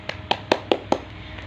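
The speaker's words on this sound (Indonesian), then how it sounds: "kita beri tepuk tangan dulu untuk temannya" A few hands clapping for a student in a classroom, five sharp, evenly spaced claps close by, then a faint trailing tap.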